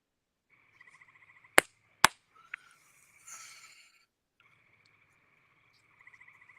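Small frogs croak in a steady pulsing chorus, interrupted by two loud sharp hand claps; the croaking briefly stops, then resumes faintly.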